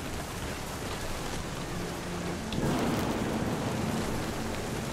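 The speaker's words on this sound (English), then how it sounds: "The thunder sounded much too close and full of angry power." In the video game What Remains of Edith Finch, a steady rain hiss fills the scene as a low thunder rumble rolls in partway through and swells the storm.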